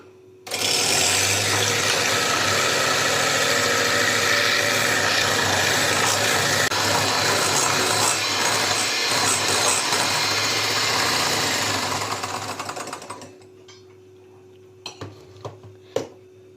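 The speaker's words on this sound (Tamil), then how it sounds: "எக் ஒயிட் வந்து நல்லா பீட் பண்ணிக்கலாம்." Electric mixer beating egg whites in a mixing bowl for a Swiss roll cake, a loud, steady whirring drone that runs for about twelve seconds, then winds down and stops, followed by a few light clinks.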